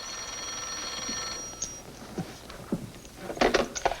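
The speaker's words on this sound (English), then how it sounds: "your phone's ringing, Margie, but tell him to wait." A 1950s telephone rings with a sustained bell tone that stops, followed by scattered knocks and clatter, heard fairly close with no talking.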